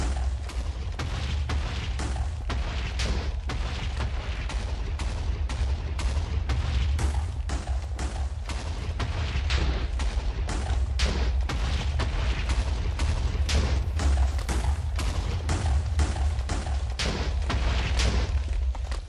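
Minecraft Java Edition TNT duper running, its blocks of TNT blowing up one after another in a fast, loud, continuous stream of booming blasts with no talking.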